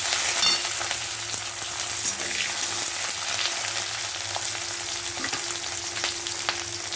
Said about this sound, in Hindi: पहले हमने जो कटिंग करके स्लाइस वाला ऑनियन वो डाल दिए हैं, वो हमें थोड़ा सा भून लेना है अच्छी तरह